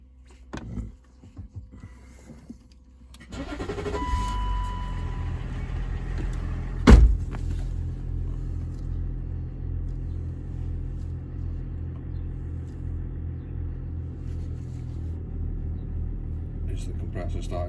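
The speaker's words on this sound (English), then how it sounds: "Is the compressor starting to rise now?" Range Rover L322 air suspension compressor starting up with a low mechanical rumble and a sharp clunk, then settling into a steady hum, with voices talking in the background.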